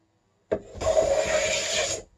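A hand plane shaves along a hickory golf shaft in one long continuous rasping stroke, close and steady, starting with a short scrape.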